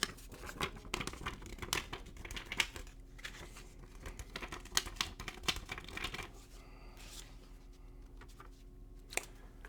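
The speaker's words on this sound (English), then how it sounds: "It's a paper note." A paper banknote from an Eastern European currency collection handled up close, with soft crinkles, rustles and small snaps of the note in quick irregular bursts. Quiet and intimate, with no talk.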